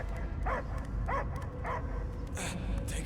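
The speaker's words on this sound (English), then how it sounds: "I hear only barking" A dog barking in the Guardians of the Galaxy video game: a few evenly spaced barks and yips over a low rumbling backdrop, followed by a higher whimper near the end.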